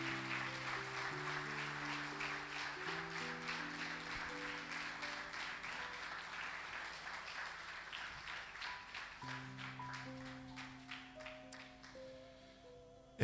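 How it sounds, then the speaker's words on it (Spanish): A church congregation claps along during a sermon while sustained keyboard chords play underneath. The clapping falls in a steady, even rhythm throughout and eases near the end. "Dale un aplauso al Señor"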